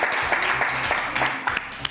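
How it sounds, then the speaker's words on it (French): Studio audience applauding on a French television talk show, a steady wash of clapping running the full two seconds. "Et je vous demande de l'applaudir, Isabeau de R"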